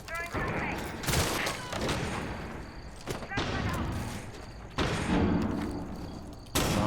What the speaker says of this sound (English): Lots of flashbangs coming in.